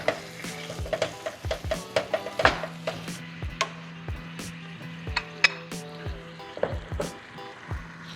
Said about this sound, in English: I'm just gonna break up that ground beef, get it evenly across the pan, crank this on high, and get a nice good brown sear on it